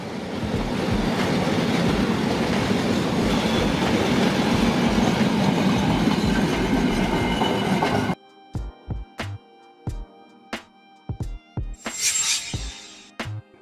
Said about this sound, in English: Container train. A freight train consisting of interconnected cars designed to carry shipping containers